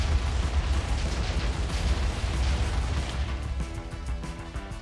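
Repeated booming cannon blasts in Minecraft, dense and rumbling, overlapping one another in a continuous barrage.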